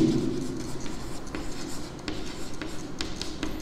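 Pen or marker writing out a maths equation for a linear equations lesson, producing soft continuous scratchy strokes with brief pauses, close and fairly quiet.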